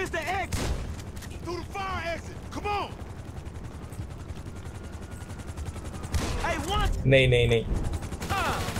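Gunfire in GTA V with a burst of shots and a helicopter-like mechanical drone, someone talking in Hindi over the action, and a loud crack near the end.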